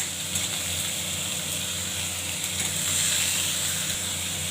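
Young jackfruit hitting hot oil tempered with chili, cumin, nigella seeds and bay leaf, a loud, dense and continuous sizzle heard close up, swelling a little toward the end.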